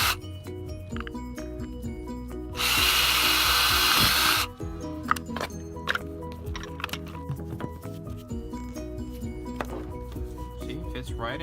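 A power drill bores ventilation holes in the plastic dust cap of a Mercedes W211 E350 headlight: one loud, steady whirring burst of about two seconds, close by, over quieter background music.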